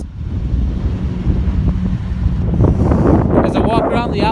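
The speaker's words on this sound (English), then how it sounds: "Sorry if it's windy." Low, rumbling wind buffets the microphone beside a Kia Cadenza outdoors, swelling and gusting, with a faint voice and some passing traffic noise mixed in toward the end.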